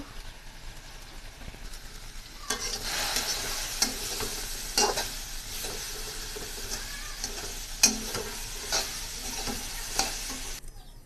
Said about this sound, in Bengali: দিয়ে দিলাম তেল, শাকটা বাগার দিয়ে দিব